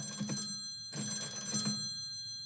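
An old-style telephone bell rings loudly in two clear bursts with a short pause between, close and alone.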